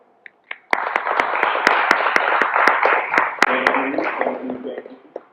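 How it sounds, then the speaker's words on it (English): Audience at a community panel on education, housing and health applauds the panelists. Sharp individual claps ring out near the mic over a softer spread of clapping, with voices talking underneath as it fades. "Round of applause to our panelists."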